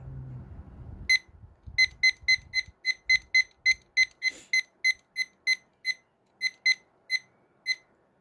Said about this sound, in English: So I have a timer here.